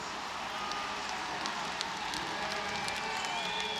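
A velodrome crowd cheers through a track cycling race, giving a dense, steady roar of voices and applause that holds evenly for the whole few seconds, with faint whistles on top.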